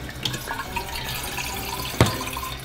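Tap water runs steadily into a bottle in a kitchen, a close, continuous splashing trickle with a sharp knock partway through.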